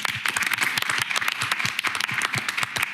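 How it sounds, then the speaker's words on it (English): An audience at a live startup pitch event applauds steadily, a dense wash of many hands clapping at close range that stays loud and even throughout with no pauses. "Everybody, can you please cheer up Martin and the USPD team?"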